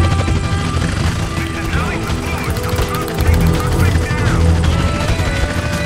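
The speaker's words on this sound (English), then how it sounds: "the helicopter will start attacking you" Attacking helicopters in the GTA video game produce a loud, constant rotor drone mixed with bursts of gunfire, with a voice talking over the action.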